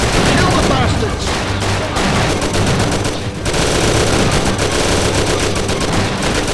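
Dense, rapid gunfire from automatic weapons in the video game Mafia 1, a loud, continuous barrage of close bursts with shouting voices mixed into the firefight.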